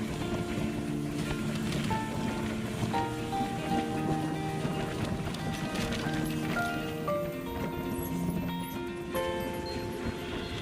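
Rain patters steadily under a droning bus engine hum on a leaky state transport bus on the Mumbai-Goa highway, a continuous wash of noise with tonal motor sounds throughout.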